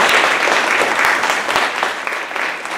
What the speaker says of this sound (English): let's give them a nice applause, please. Round of applause.